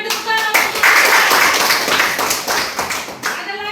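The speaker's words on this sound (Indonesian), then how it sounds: "tepuk tangan" Clapping in a classroom lesson, a group of children's hands in a dense burst, loud and close, with a voice speaking briefly at the start and end.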